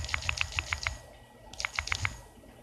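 Typing on an Android phone gives two quick bursts of crisp, light taps, about five or six each, separated by a short pause, close and clear with no talking.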